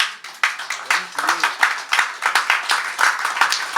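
Audience applause at a live folk concert at the Mainstay, a burst of many hands clapping in quick, uneven rhythm, close and fairly loud, with a voice faintly audible underneath.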